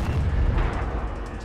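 A deep, rumbling explosion booms loud and close in Modern Warfare 2 multiplayer gameplay, its low roar sustained and slowly fading across the whole moment.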